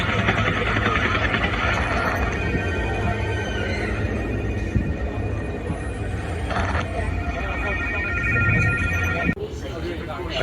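A mobile phone ringtone chirps in repeated tonal bursts over loud surrounding noise and background voices at the Alton Towers theme park.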